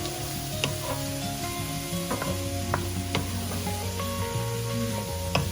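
Onions sizzle in oil while frying for a goat brain fry, a constant bright crackle with occasional stirring clinks and scrapes against the pan, close and fairly loud.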